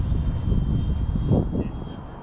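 An RC F-22 model jet powered by a 90mm electric ducted fan makes a slow pass, its steady whooshing roar holding loud and broad before easing slightly as it moves off.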